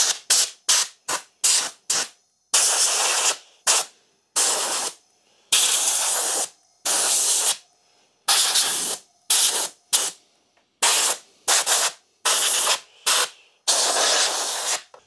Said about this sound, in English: This, I think, is just going to be a job for the air compressor.